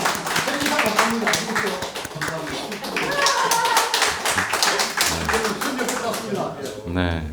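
An audience at a Catholic priest's lecture claps together in a sustained, rhythmic round of applause that runs throughout, with voices talking over it.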